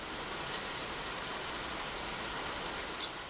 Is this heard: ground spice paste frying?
no